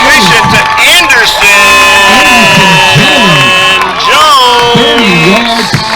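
Stadium crowd at a football game roars and cheers after a 30-yard pass completion, a loud sustained wall of shouting and whooping voices with rising yells and a brief dip near the end.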